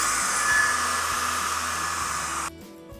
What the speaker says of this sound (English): I'm going to bring my dryer in.